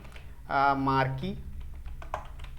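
Quick keyboard clicks from HTML code being typed on a computer keyboard, faint and scattered, following a short burst of a voice.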